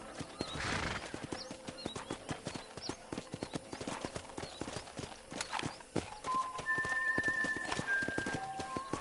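Horse hooves clip-clop steadily in a Western ranch setting in Red Dead Redemption 2, with a neigh near the start and game music tones later, continuous and fairly close throughout.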